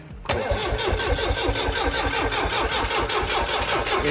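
A John Deere 4219 diesel tractor engine fires up after sitting through winter, with a sharp catch followed by a loud, close, rough chugging idle that keeps a steady rhythmic knock throughout.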